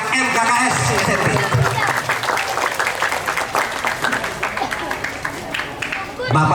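Audience applause at an Indonesian school-principals' association (MKKS SMP) appreciation and social-service event, dense clapping mixed with crowd noise and murmuring, fairly loud and steady throughout.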